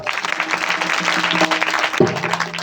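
At a kirtan in the Datta temple at Nandgaon, an audience claps together in dense, sustained applause that fills the hall, loud and close throughout.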